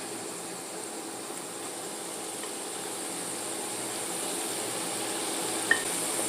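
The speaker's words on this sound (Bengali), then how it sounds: "এবার এটা ভালো করে ভেজে নেব" Onion and capsicum fry in a pan with garlic paste while chilli chicken is cooked, giving a steady, fairly quiet sizzle that holds throughout, with one small sharp clink near the end.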